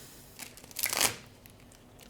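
A deck of tarot cards is shuffled nearby: a quick riffle of crisp flutters builds to a louder burst, then fades into quiet.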